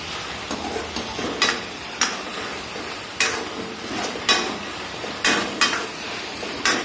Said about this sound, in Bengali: দেখো মশলা আমি করছি, উপরে তেল দিয়ে দিলাম, সরষের তেল নেই, মিঠা তেল দিয়ে রান্না করছি